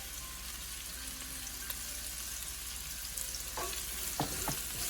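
Sliced onions with salt sautéing in a pan for a biryani, a continuous soft sizzle with a few scraping stirs of a spoon near the end, no voices.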